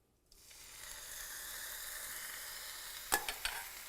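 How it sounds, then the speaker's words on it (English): Chicken hits a hot frying pan to brown and a loud, steady sizzle rises and holds, with a couple of sharp scraping clinks near the end. "You can hear that sizzle of goodness."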